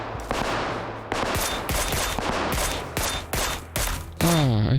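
Mini-14 rifle fire in PUBG Lite: a series of sharp, loud single shots spaced irregularly over several seconds, each with a crisp crack and short tail, over steady background game noise.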